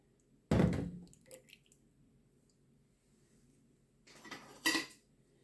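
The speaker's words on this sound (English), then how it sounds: "I'm using my tongs and just stir around the sauce inside the strainer" Metal tongs scraping and stirring thick birria beef sauce inside a metal strainer over a crock pot, two short bursts of clinking and squishing separated by quiet.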